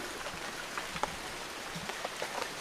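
Rain falls steadily on green mountain farmland, a dense, even patter with scattered sharper drop hits, fairly close and with no voices.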